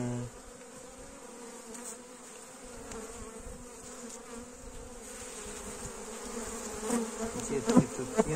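Honey bees buzz in a steady, dense drone from an opened hive during an early spring inspection after overwintering, swelling slightly louder toward the end with a few closer passes.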